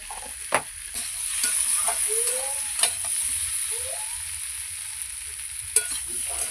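Potato and pointed gourd pieces frying with turmeric and chili powder in a pan, a steady bright sizzle broken by several sharp scraping stirs of a spatula, close and without speech.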